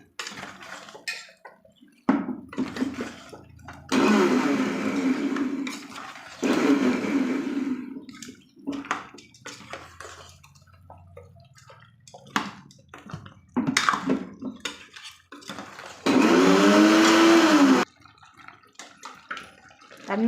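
A kitchen mixer grinder pulses roasted masala with water for a village-style country chicken curry, running in several short loud bursts of whirring separated by clatter and handling noise.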